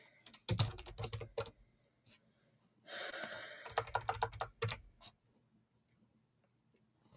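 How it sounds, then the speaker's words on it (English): Someone types on a computer keyboard in quick bursts of sharp clicking keystrokes separated by short pauses, close and fairly quiet, with no voices. "would help if I was actually typing."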